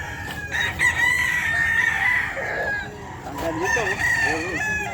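A large Sweater-breed rooster crows loudly nearby at the Bocaue pet market, its call drawn out, followed by a second shorter crow, with faint voices in the background.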